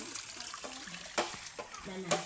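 Water is collected into a container, heard as a faint, steady trickle and splash with a few brief louder spurts and low voices in the background.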